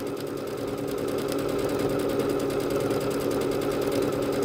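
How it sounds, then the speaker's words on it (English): A Bernette B-77 embroidery machine stitches a string of leaves in straight lines, with a fast, steady mechanical rattle that runs evenly and close throughout. "Here we're stitching a little string of leaves. They stitch nice and quickly."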